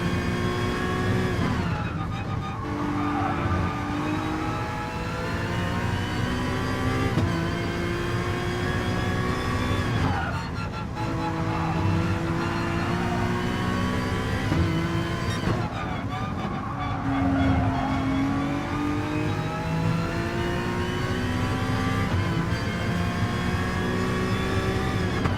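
Race car engine from the game GT Sport, a steady loud harmonic drone with rising and falling pitch as gears shift, running continuously with brief lifts around corners.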